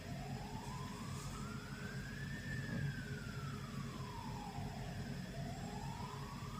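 Emergency vehicle siren wailing in a slow rising and falling sweep, steady and moderately distant over a constant low traffic rumble, with no talk.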